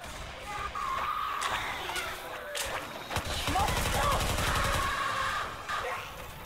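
Rapid automatic gunfire in Left 4 Dead 2, with scattered shots and a sustained close burst through the middle, mixed with game sounds and background music.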